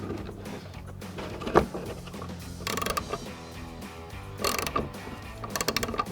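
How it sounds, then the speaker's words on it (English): A 15 mm ratcheting wrench loosening a shock mounting bolt on a 2016-2024 Camaro, several close bursts of quick ratchet clicks with a metallic clunk between them. "So we'll grab our 15 mil ratcheting wrench and go ahead and get that off."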